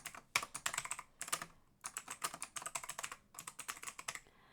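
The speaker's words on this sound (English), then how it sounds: "If I can type." Fast typing on a computer keyboard comes in three quick bursts of close, crisp key clicks separated by short pauses.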